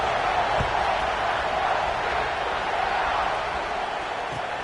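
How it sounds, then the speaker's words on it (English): Broad, steady roar of a football stadium crowd at a South Carolina game after a touchdown, a dense continuous buzz of many voices filling the whole stretch with no single voice standing out. "this crowd is buzzing after that last score"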